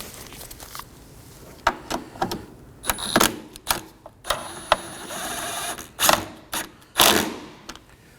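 A 10mm bolt snugged down near the wiper motor on a 2014-2023 Ford Transit Connect 2.5L, giving a series of close metallic ratchet clicks and taps in irregular bursts, with no talking.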